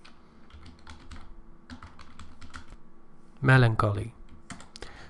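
Computer keyboard typing clicks along steadily in light close taps, with a brief burst of speech partway through.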